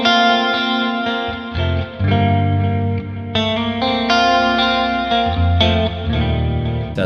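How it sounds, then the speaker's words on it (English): Clean electric guitar through the Neural DSP Archetype Petrucci amp sim, a Strat-like clean tone with compressor and chorus, playing a sustained effected riff with shimmering, slightly distorted overtones, loud and close with no talking. "It's like a Strat clean tone."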